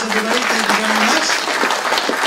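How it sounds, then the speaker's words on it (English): An audience gives a quick round of applause for a speaker named Antti at an XR challenge event, a loud, dense burst of clapping while a voice speaks over it. "let's give Antti a quick round of applause"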